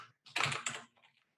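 A computer keyboard being typed on, a short quick burst of close key clicks followed by a couple of fainter taps, with no talking.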